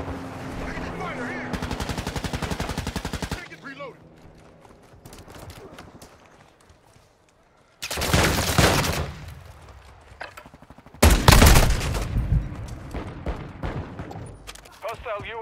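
Gunfire in Call of Duty: Modern Warfare 2, rapid automatic bursts in loud separate volleys with quieter stretches between, game voice callouts heard in between.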